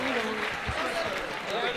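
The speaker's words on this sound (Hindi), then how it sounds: "जोरदार तालियां।" Audience applause at a Jain religious gathering led by a monk, a steady wash of clapping from a large crowd with some voices mixed in, sustained across the short moment.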